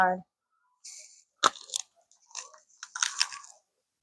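Someone bites into the crispy crust of homemade French bread, giving several sharp crunchy bites and chews spread over a few seconds, close and clear against near silence, with a short bit of voice at the start.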